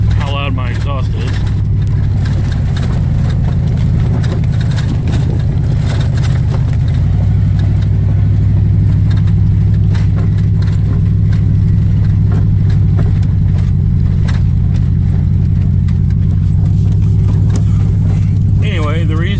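A vehicle with a loud exhaust is driven up a rough, rocky back road, its deep engine drone steady and close throughout, with scattered knocks and rattles from loose items bouncing around inside.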